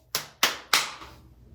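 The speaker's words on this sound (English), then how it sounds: "That was a mean girl clap if I've ever heard one" Three sharp, deliberate hand claps ring out close by in an even, slow rhythm, each crisp snap trailing off before the next, with no talking.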